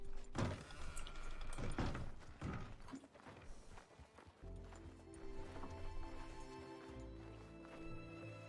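Hooves of a spooked horse bolting away in a Western video game, a quick clatter of rapid thuds in the opening seconds that fades into a quieter, steady ambient bed.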